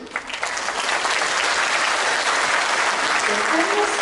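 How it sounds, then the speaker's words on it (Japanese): A concert audience applauds at a show, a dense, loud, sustained wash of clapping that rises quickly and holds steady throughout. "ですからせめての力強い拍手だけは最後までどうぞよろしくお願"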